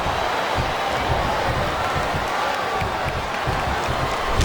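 Arena crowd noise in the WWE SmackDown vs Raw 2008 video game, a dense, steady roar of a large audience with faint thumps from the ring beneath it.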